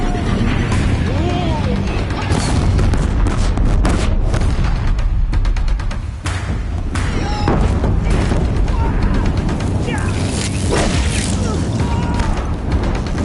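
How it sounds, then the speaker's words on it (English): Deathbringer machines keep up heavy fire in Horizon Zero Dawn as a bridge gives way, with loud booms, crashes and bursts piling into a dense, continuous roar, briefly dipping before the chaos resumes. "Deathbringers keep firing, this bridge will go!"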